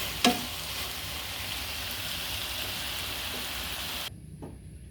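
Beef and garlic sprouts sizzle steadily in a hot stir-fry pan, a loud continuous frying hiss with a brief clatter at the start, then quieting sharply near the end.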